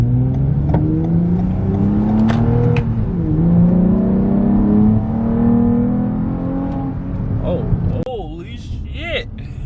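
A Toyota Camry TRD fitted with a throttle body spacer accelerates in sport mode, its engine note climbing through rising revs, loud and close from inside the cabin, with a voice speaking toward the end.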